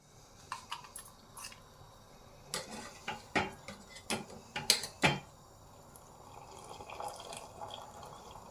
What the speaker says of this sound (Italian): l'acqua bolle, metto il sale e mettiamo su gli spaghetti